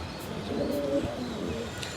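Tournament pigeons cooing softly nearby, a few low murmuring coos over steady background noise, with no talking.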